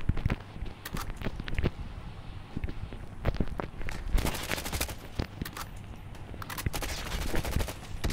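Shotgun blasts in Call of Duty Mobile on the Alcatraz map, a run of sharp, loud bursts, some close together and others spaced out, over a low steady game hum.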